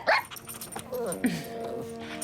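A dog yips and whines eagerly before a walk, a few short high barks and a rising whimper close by, with someone speaking French over and between the sounds.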